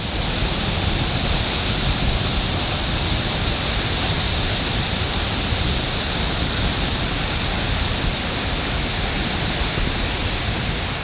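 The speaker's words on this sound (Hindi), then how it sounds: "सैकड़ों टन मलबे के साथ नीचे आता पानी और उसका शोर" Floodwater from a Kullu cloudburst roars down carrying hundreds of tons of debris, a steady, dense rushing that stays loud and unbroken throughout, with no talk over it.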